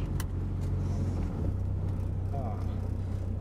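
A Renault 4CV rumbles steadily along the road, its low engine drone continuous and close throughout, with faint background noise above it.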